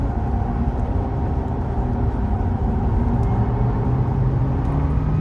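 A vintage Ford Cortina race car drives on a track, its engine a steady loud drone with a slowly rising pitch, no talking.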